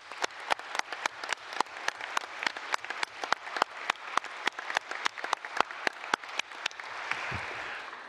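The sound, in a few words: conference audience applause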